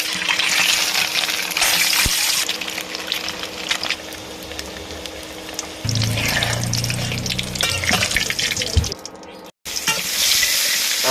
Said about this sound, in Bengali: আমরা সর্বপ্রথমে পেঁয়াজ দিলাম গরম তেলের উপরে